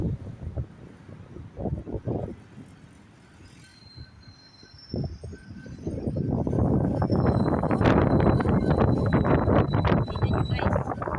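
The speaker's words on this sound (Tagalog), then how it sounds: "Napaka-windy ngayon." Strong wind in Kuwait buffets the microphone in loud, roaring gusts that rise and build toward the end, with a voice heard faintly at times.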